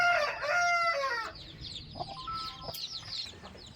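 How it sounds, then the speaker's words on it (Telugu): A rooster crows loudly and close by, followed by softer, scattered clucking from chickens at a poultry farm, with no speech. "ఇది ఆ పుంజు"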